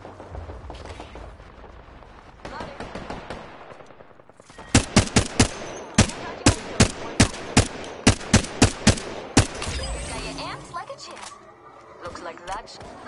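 Gunfire in the video game Apex Legends: a rapid string of about a dozen sharp, loud shots in steady rhythm, preceded and followed by game ambience with a voice speaking.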